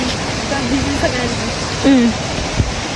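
A village stream in the monsoon season rushes loudly and steadily close by, a broad roar with voices talking faintly over it.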